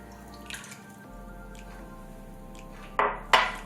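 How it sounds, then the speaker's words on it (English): Water pours into a kitchen pan for soaking rice paper, two short splashy bursts near the end following a quiet, faintly humming stretch with a few light clinks. "add water into your pan, just enough to soak your rice paper in"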